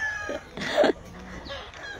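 A chicken gives a short, harsh crow nearby, a raspy burst that rises and breaks off, with fainter clucks and calls around it.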